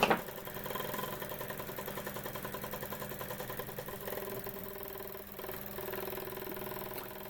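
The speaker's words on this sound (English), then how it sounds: "Very quiet engine as well." A Jensen 45 model steam engine with a steel boiler chugs steadily and quietly, with a fast, even mechanical rhythm running throughout, close by and uninterrupted.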